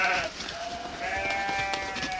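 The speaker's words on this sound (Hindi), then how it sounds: "मोहन अपनी भेड़ियों को लेकर निकल पड़ा" Sheep bleat in short, wavering cries, one after another at close range and fairly loud, with no one talking over them.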